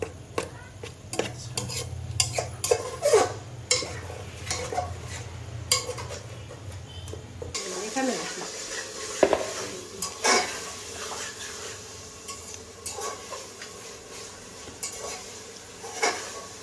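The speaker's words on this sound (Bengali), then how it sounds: "এইগুলো একটু ভাজা ভাজা, মশলাগুলো একটু ভাজা ভাজা করে নিব" Spices fry in a pan while being stirred for a tripe dish, with clinking and scraping strokes over a low sizzle that grows brighter partway through; no one speaks.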